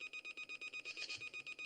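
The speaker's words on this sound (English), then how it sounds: "I certainly heard that. It's the emergency alarm." A spaceship emergency alarm blares in rapid, evenly spaced electronic pulses, a shrill repeating beep at a steady quick rhythm, mid-level in the room.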